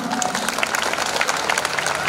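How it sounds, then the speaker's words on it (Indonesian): Audience applause at a speech marking four years of the regent and vice regent's leadership in Biak, a brief burst of many hands clapping, dense and steady, with crowd noise mixed in. "Tepuk tangannya mana?"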